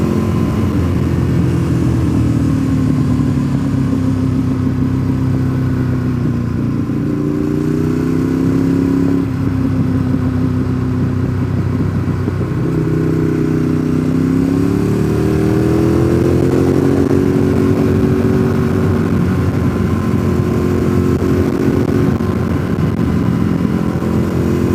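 A Kawasaki Z motorcycle engine riding through Deals Gap, a loud, close, continuous drone whose pitch rises and falls in several smooth sweeps as the rider shifts and throttles, with no voices over it.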